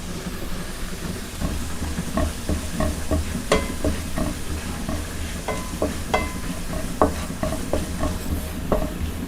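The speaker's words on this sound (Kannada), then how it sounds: "ಈಗ ಒಂದು ಅರ್ಧ ಟೇಬಲ್ ಸ್ಪೂನ್ ಮೈದಾ ಹಾಕಿ ಚೆನ್ನಾಗಿ ಮಿಕ್ಸ್ ಮಾಡಿಕೊಳ್ಳಿ." Chicken being mixed with maida flour in a pan, a steady low sizzle under rhythmic scraping and knocking of a spatula against the pan, close and continuous.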